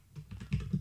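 Keystrokes on a computer keyboard while entering a Linux terminal command on Debian: a quick run of soft, close clicks with two firmer taps toward the end, no voices.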